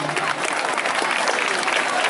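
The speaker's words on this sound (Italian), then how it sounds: "Facciamo un applauso a questi ragazzini" A crowd claps steadily throughout, a dense, even patter of applause heard up close with a few voices mixed in.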